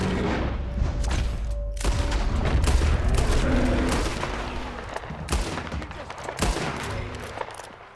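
Gunfire in the video game Red Dead Redemption 2, a loud, close barrage of repeated shots and booms cracking over a continuous rumbling din, with sharp individual reports standing out near the end.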